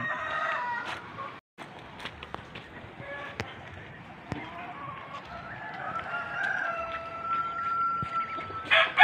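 Large Rhode Island chickens in a poultry yard give faint clucks and a drawn-out rooster crow that rises near the end, over low background noise with scattered knocks.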